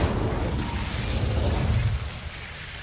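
Bombarda explosion spells cast in the Hogwarts Legacy video game, a rumbling low blast that holds steady for about two seconds then eases into a quieter tail, with no talk over it.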